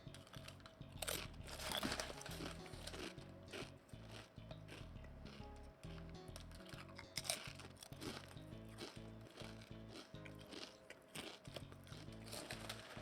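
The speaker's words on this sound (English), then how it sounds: "You hear that fucking crunch?" Crunchy chips are chewed close to the mic during a livestream snack, giving a steady run of dry crackling bites and grinding crunches, fairly quiet overall with repeated sharp snaps throughout.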